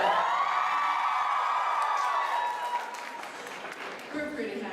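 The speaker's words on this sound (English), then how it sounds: "thank you for applauding nonetheless" Convention audience at a fan expo in Edmonton applauding steadily, a dense sustained patter of clapping with some cheering, easing slightly near the end.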